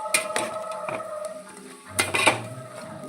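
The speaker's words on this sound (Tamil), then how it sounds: "மஞ்சத்தூள் போட்டுக்கிட்டோம், வதக்கிக்கலாம்." Chicken with turmeric and salt being sautéed in a pan for a chicken gravy, heard as clattering metal stirring and scraping against the pan with a faint sizzle, a few distinct clanks across a few seconds.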